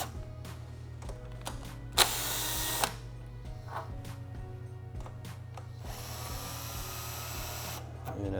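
An 8mm socket ratchet backs two screws out of a 2016 Honda CBR500R, with quick close clicking ratchet strokes, metallic taps and a couple of louder scraping bursts over a steady low hum.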